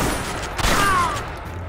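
Distant, muffled gunfire during a firefight in the video game Splinter Cell Conviction: a brief burst of shots over a steady background hum and a faint rising whine, with no talking.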